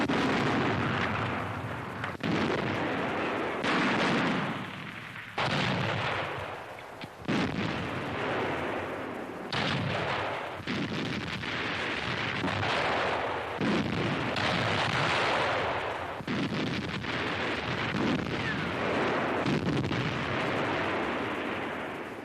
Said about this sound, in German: Feindliche Panzer, Flakartillerie schlägt sie zurück.